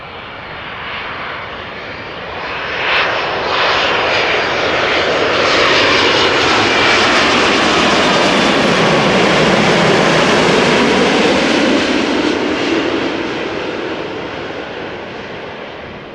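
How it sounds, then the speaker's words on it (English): A Belgian-registered, eight-year-old Boeing 787-8 arriving at Amsterdam Schiphol from Curaçao: a loud, close jet roar that swells steadily, holds a broad rushing peak for several seconds, then slowly fades, with no voices. "356 coming in from Curaçao. 787-8, flight time 8 hours 25 minutes."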